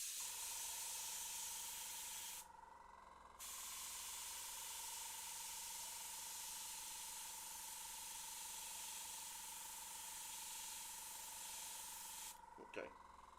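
An airbrush sprays paint onto a Warhammer 40k Emperor's Children test miniature, giving a steady, close, unbroken hiss that runs almost the whole time with a short dip partway through and a faint steady tone beneath, with no talking.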